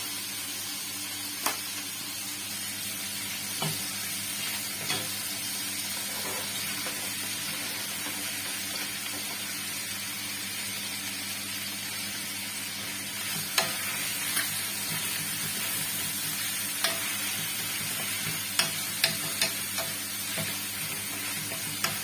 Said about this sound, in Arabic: غادي نزيدو عليه هذيك البصله ديالنا